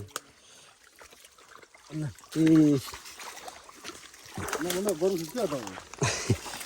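Feet wade through a muddy, flood-swollen jungle stream, making sloshing and trickling splashes that come in bursts between close voices of people talking.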